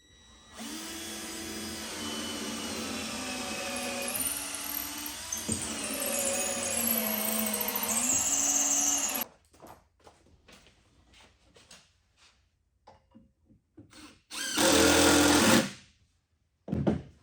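A power drill drives lag screws into a wood slab, whining steadily for several seconds, its pitch rising and falling under load, then stops; after scattered small knocks, another short loud burst of drilling.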